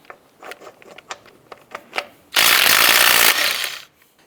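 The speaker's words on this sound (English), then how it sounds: "Using a 19mm socket, we're going to go ahead and remove the lug nuts." Impact wrench with a 19mm socket spinning lug nuts off a Chevy Colorado front wheel: several short clicks and bursts, then one loud, close, sustained buzzing rattle of about a second that tapers off.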